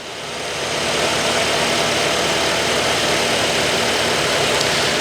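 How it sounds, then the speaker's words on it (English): A car engine starts during an electrical system analyzer cranking test and settles into a steady, loud idle that runs continuously with a low rumble and no talking. "We're going to walk around and start the motor real quick."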